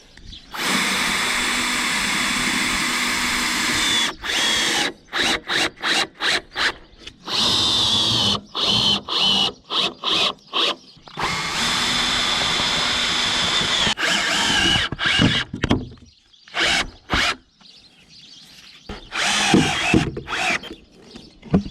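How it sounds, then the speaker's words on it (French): A power drill bores pilot holes for screws through a jig during sarking roof insulation work, giving loud close whining bursts of varying length separated by pauses, with some brief stop-start triggering. "je viendrai repercer encore 2 trous intermédiaires avec mon gabarit"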